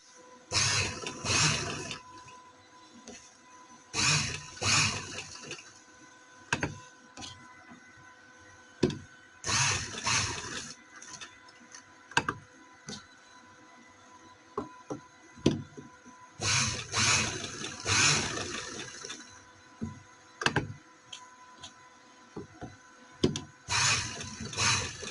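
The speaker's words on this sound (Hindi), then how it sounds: "अब मैं सिलाई लगाती हूँ।" A sewing machine stitches trousers in several loud bursts of rapid mechanical whirring, separated by short pauses and small clicks and handling noises, with no talking.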